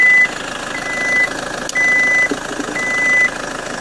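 A car engine left unused for four months idles steadily just after a jump start, a close, constant mechanical rumble punctuated by short repeated electronic beeps.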